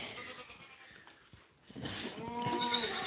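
A newborn goat kid on a farm gives short, thin bleats, faint at first, then a louder wavering cry after a brief lull, close by with soft rustling around it.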